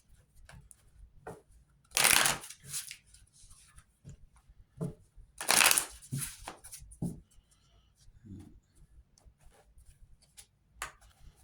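Tarot cards being shuffled by hand at close range, two loud riffling bursts separated by softer slides, taps and rustles of the deck.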